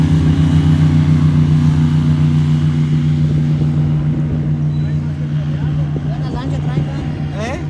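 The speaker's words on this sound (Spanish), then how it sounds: "Esos no se atascan en ningún lado, son aerobotes." An airboat on the water with a loud, steady engine drone that holds throughout and rumbles close by, passing with people talking over it.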